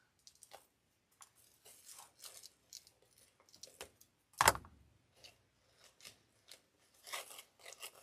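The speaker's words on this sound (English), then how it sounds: "I'm going to go around and cut the excess off of these others." Scissors snipping excess material off a large patriotic-themed decorative wreath, a series of short, close, crisp cuts with irregular pauses, one louder crunchy snip midway, no talking.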